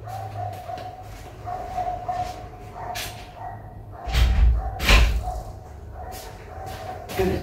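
Dogs bark intermittently nearby, mixed with a couple of heavy thumps like a door slamming, over a steady low hum.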